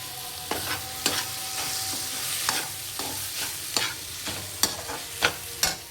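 Paneer and chopped vegetables sauté in a pan for paneer podimas, a steady frying hiss broken by repeated sharp scrapes of a spatula stirring, close and moderately loud with no talking.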